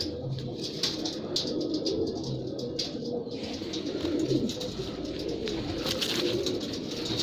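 Pure Mirab pigeons, including a male, coo steadily in low, rolling murmurs that run through the whole stretch, with overlapping calls from several birds and no talking.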